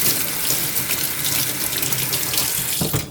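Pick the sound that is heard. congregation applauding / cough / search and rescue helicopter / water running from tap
water running from tap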